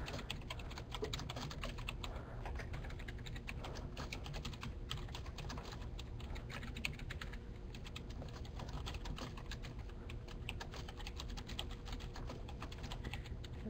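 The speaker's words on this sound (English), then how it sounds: "I'm going to go ahead and type into the notebox the first question." Continuous rapid typing on a computer keyboard, a dense stream of soft clicking keystrokes, close and steady for over thirteen seconds with no voices.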